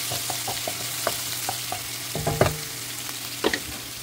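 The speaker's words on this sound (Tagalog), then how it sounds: "mag-gisa-gisa na tayo" Food sautés in a hot pan with a steady, quiet sizzle, while scattered utensil taps and scraping stirs sound at irregular moments throughout.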